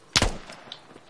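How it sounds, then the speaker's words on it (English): Single sniper rifle shot in the military shooter Squad, a sharp, loud crack with a short rolling echo tail, heard alone without talk. "Sniper fire."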